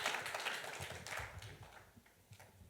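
Church congregation applause at an evening service, a broad wash of clapping that is loudest early and thins out toward the end, with no voices over it.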